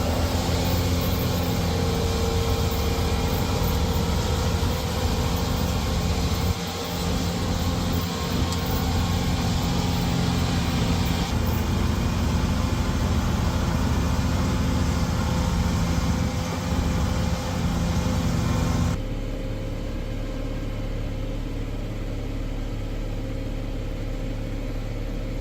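A C450 on a farm on its first day, running with a steady, loud mechanical engine drone that holds for most of the clip and shifts in tone partway through, with no voices.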